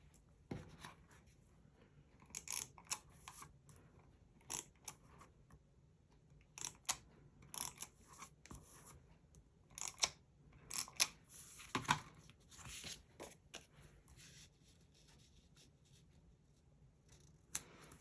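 Scissors snip and trim paper for a Creative Memories scrapbook page, giving quiet, close, irregular cuts and rustles spread across a calm, soft background.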